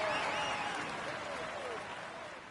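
A crowd applauds the winner of the Tour de France with a steady, loud wash of clapping that slowly fades, while a voice speaks over it.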